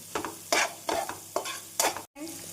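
Onions sizzle and hiss in a hot pan, salted while sautéing for paneer fried rice, with repeated bursts of stirring scrapes at a steady rhythm.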